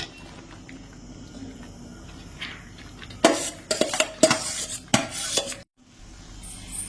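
Fried carrot, capsicum and onion tip into white sauce in a pan, giving a burst of clattering utensil knocks, scrapes and stirring over a few seconds after a quiet start.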